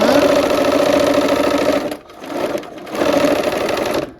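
A sewing machine runs steadily, stitching a quilt seam in two loud continuous bursts separated by a brief pause.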